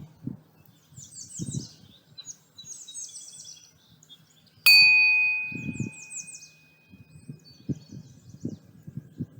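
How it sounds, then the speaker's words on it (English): A single meditation bell is struck once at mid-clip with a bright ringing tone that slowly fades over a couple of seconds. Birds chirp softly before and after, and faint low rustles fill the quiet room. "As you hear the sound of the bell, gently open your eyes."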